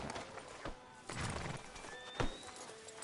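A horse in Red Dead Redemption 2 whinnies over clopping hooves, heard faint and somewhat distant with short bursts of game sound around it.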